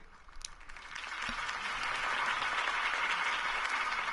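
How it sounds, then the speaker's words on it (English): A crowd in a video game applauds after a campaign speech. The clapping starts thin and swells into a steady, dense wash that stays fairly quiet and distant. "If only Mr. Wayne, my campaign's largest backer, could have heard that applause"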